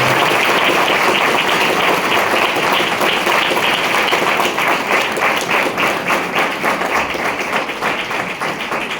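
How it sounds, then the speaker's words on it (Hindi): Sustained, dense applause from an audience at a school World Braille Day event, many hands clapping loudly and steadily throughout, easing slightly toward the end. "तो एक बार जोरदार तालियां आपके लिए।"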